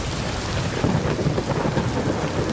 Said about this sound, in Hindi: आसमान गरज उठा